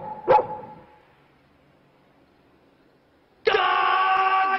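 A cartoon dog gives a short sharp bark, then after a quiet pause lets out a longer sustained, tonal bark or howl that is loud and close.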